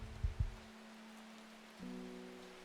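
Rain in the cozy puzzle game Strange Horticulture: a faint, steady hiss of falling rain beneath low sustained background music tones, with a couple of soft thumps at the start.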